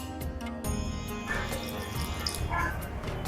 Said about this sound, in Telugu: 1 కప్పు వాటర్ వేస్తున్నా.